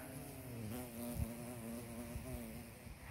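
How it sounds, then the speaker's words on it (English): A flying bee buzzes with a steady, faint droning hum that wavers slightly in pitch, close by against a quiet background. "I love watching bees fly in slow motion"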